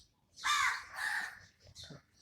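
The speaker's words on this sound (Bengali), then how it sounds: "কত পাখি ডাকছে দেখেছো?" Crows caw loudly and close in two long harsh bursts at early dawn, followed by a fainter short call and other birds chirping in the background.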